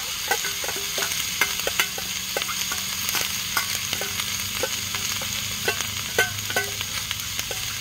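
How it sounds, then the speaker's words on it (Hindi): Onion, capsicum and boiled vegetables shallow-fry in a pan at a forest campsite, with a constant hiss and sizzle broken by frequent scraping and stirring taps from a spatula. "तो इसको हम करेंगे थोड़ा सा शैलो फ्राई"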